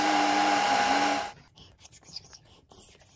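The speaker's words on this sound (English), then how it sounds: "Look, hair dryer." A toy-sized hair dryer in a play dollhouse hums with a steady, loud whir for just over a second, then cuts off, leaving soft whispered talk.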